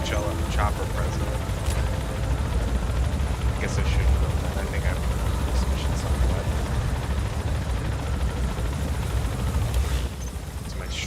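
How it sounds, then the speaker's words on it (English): An attack helicopter in Metal Gear Solid 5 near Nova Braga Airport drones steadily and loudly throughout, rotor noise mixed with bursts of gunfire, while someone talks over it. "there's an attack chopper present"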